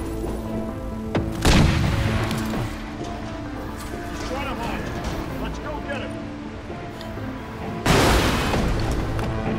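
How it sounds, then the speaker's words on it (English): Two loud booming blasts land several seconds apart, the first early and the second near the end, over ongoing combat noise in the shooter game Crysis 3, consistent with grenade explosions. "Run away from the grenade."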